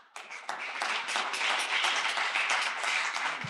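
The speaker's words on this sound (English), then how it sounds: "Round of applause for our first founder up." An audience claps for a startup founder taking the stage at a pitch event. The applause is dense and steady, swelling in quickly and holding at full strength without speech over it.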